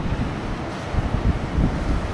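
Ocean waves and wind on a beach make a steady broadband roar with gusty swells of surf, loud and close to the microphone, with no voices.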